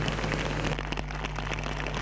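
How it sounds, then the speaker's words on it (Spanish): Heavy rain pours down during a Gran Turismo touring-car race run under a red flag, giving a dense, steady hiss with a low, constant hum underneath. "la lluvia cada vez era más copiosa"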